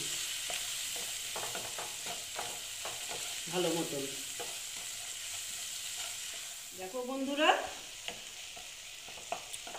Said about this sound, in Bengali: দিয়ে এটাকে আমি আবার ভেজে নিচ্ছি